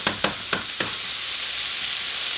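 Vegetables sizzle and fry in a pan with olive oil and butter, giving a steady close hiss, with a few sharp stirring clacks at the start.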